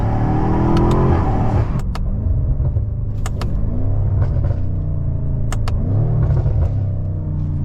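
A loud, close sports car engine revs up, drops briefly at the shift from first to second gear, then climbs again with a steady rumbling roar.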